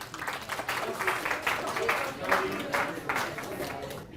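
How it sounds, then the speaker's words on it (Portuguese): Students in a university analytic geometry lecture give a short round of clapping for classroom volunteers, the individual claps audible as uneven bursts at moderate volume with a murmur of voices around them. "Palmas para os nossos voluntários."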